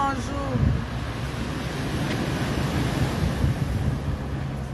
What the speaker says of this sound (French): Il y a un vent terrible